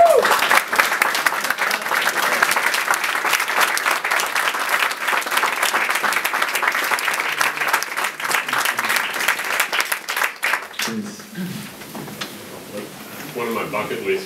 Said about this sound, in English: everyone, I'd like to give Scott a big round of applause.